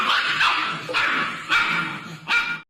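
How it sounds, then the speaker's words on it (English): A Caucasian Shepherd, a huge bear-sized livestock guardian dog, barks four times in a steady rhythm, each bark deep, loud and close, with no other sounds in between. "A dog the size of a small bear, with a gaze that could melt steel and a bark that would shake walls."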